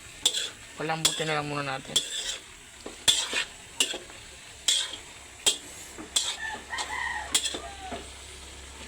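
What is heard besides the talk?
stirring jackfruit in coconut milk in a pan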